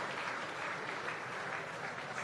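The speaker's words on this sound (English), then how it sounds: "As the crowd gives another clap to Girdler." A rugby crowd at an under-20 Super Rugby match claps steadily in the stands, a dense, even wash of applause heard from a distance.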